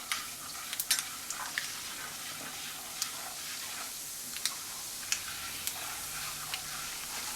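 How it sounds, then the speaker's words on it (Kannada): Urad dal sizzles in hot tempering oil, a faint continuous frying hiss broken by scattered small pops and crackles, heard alone without talk. "ಈಗ ಉದ್ದಿನ ಬೇಳೆನೂ ಹಾಕ್ಕೊತೀನಿ"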